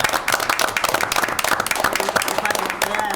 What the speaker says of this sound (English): ask the Park Commission to go ahead and give him a round of applause for it